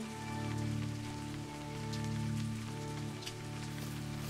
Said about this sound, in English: No, I can't wait out the rain.